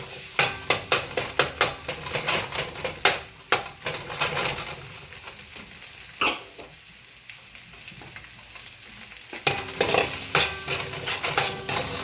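Garlic sautéing in a pot as the first step of sinigang na baka, a steady sizzle with repeated stirring clicks and scrapes of a utensil against the pan, close and alone with no talk.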